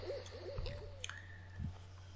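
Night bird calls ring out in the video game Everlasting Summer: a short run of soft, owl-like hooting notes, close and alone over a steady low hum.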